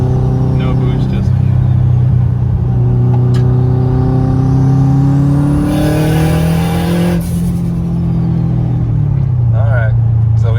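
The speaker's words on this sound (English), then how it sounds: "you could hear the turbo for sure" A 600hp turbocharged car accelerating, heard from inside as a loud steady engine drone rising in pitch through the gears, with a faint turbo whistle on top and people talking over it.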